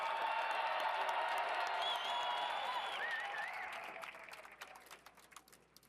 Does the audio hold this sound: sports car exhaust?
no